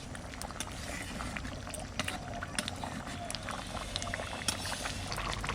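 Duck curry with ash gourd bubbling hard over high heat in an uncovered pot, a quiet steady simmer with scattered small pops and crackles, no voices.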